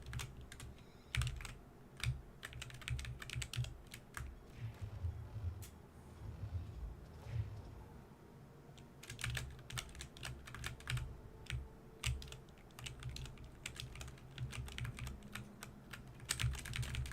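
Rapid bursts of computer keyboard keys pressed during a Siralim Ultimate gaming session, a dense clattering of clicks in clusters with a brief lull in the middle, close and fairly quiet.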